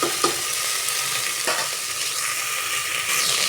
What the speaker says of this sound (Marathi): आपल्याला मोठ्या गॅसवर सगळ्या भाज्या चांगल्या परतून घ्यायच्या आहेत